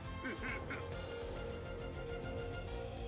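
Cartoonish poultry squawks from the chicken in the video game Hyrule Warriors on Switch, a few brief repeated calls over a dense, steady layer of game music and effects.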